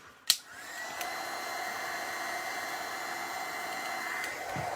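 A hair dryer drying paint on craft pieces during a patina makeover switches on after a sharp click and settles into a steady whirring blow that holds close and even for several seconds, with no talking.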